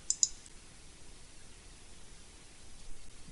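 A computer mouse clicks twice in quick succession at the start, crisp and close, while drawing on a chart, followed by quiet background hiss.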